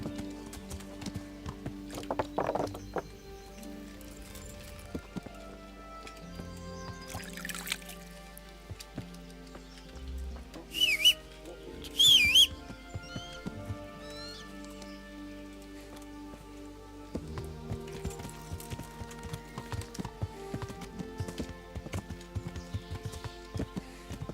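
Horse hooves clip-clop in an irregular walking rhythm in the video game Kingdom Come: Deliverance, against a quiet background, with a few brighter clinks partway through.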